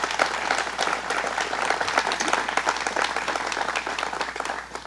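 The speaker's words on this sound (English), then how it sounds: "Let's give him a round of applause to Howard Zemsky." Crowd applause at a public announcement event in Niagara County, dense continuous clapping from a sizable audience, fairly loud and sustained throughout the nearly five seconds.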